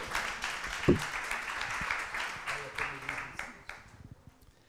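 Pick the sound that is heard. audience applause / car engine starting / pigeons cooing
audience applause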